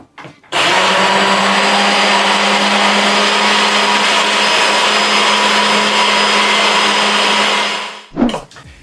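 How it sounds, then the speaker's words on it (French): Soup blender mixing a chocolate emulsion, switched on abruptly and running at a loud, steady whir for about eight seconds before cutting off with a brief clunk. "si vous avez un mixeur à soupe, eh bien vous allez le mixer"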